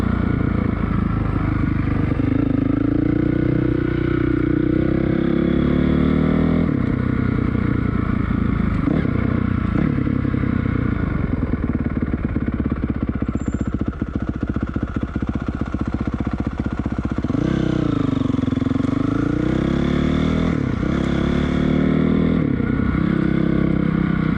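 A 2006 Honda CRF450R engine runs close by in a continuous drone, with rev swells and dips around the middle and again near the end, plus light mechanical clatter.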